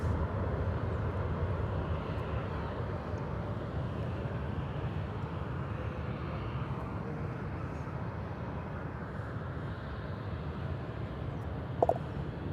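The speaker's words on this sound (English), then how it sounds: "That was American Flight 2326, a 737-800, arriving from Des Moines" An American Airlines Boeing 737-800 arriving at DFW Airport from Des Moines, Iowa, a steady broadband jet rumble that holds at an even level throughout, with a brief sharp click near the end.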